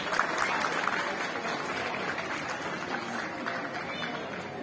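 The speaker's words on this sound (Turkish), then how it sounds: "alkışlarınızla nikah masasına davet ediyorum" Guests at a wedding ceremony in an Ankara wedding hall applaud steadily as witnesses are invited to the marriage table, a sustained wash of crowd clapping at moderate distance.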